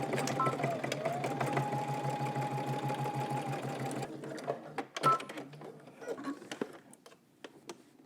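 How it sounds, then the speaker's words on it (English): A sewing machine stitches a belt buckle in place on a Simplicity S9917 garment, running in a steady, rapid rhythm for about four seconds, then stopping, followed by light handling clicks. "And we're gonna just stitch this in place."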